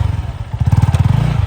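A Yamaha R1 sport motorcycle pulling away at the start of a race, a loud close engine throb with rapid pulsing firing beats that rise in strength partway through the short burst.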